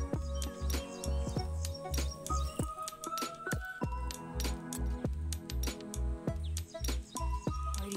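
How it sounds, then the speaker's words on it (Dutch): Birds chirp and sing outdoors on a morning overlooking the Sea of Galilee near Poriya Illit, with bright repeated calls over scattered low thumps and rustling close to the microphone. "Oh, die vogels hoor je."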